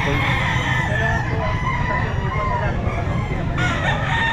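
At a crowded pet market, a Raptor Sweater gamefowl rooster crows within a constant din of other fowl and people, the calls blending into a loud, unbroken background.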